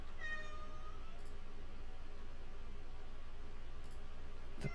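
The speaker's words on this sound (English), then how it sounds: "I don't know if you can hear my cat." A pet cat meows briefly near the start, a short rising cry over a steady indoor hiss, with a couple of faint clicks later and no talking.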